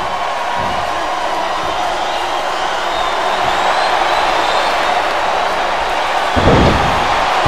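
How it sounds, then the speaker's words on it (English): Crowd noise from an arena in the wrestling game Smackdown vs. Raw 2008: a steady wash of voices and chanting throughout, with a few thuds and a louder surge near the end. "Wow, listen to that chant."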